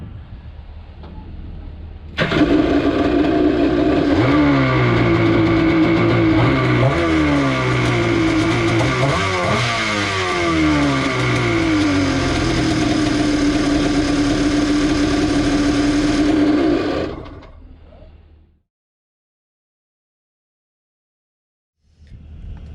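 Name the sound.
boat engine started by jumping two wires, running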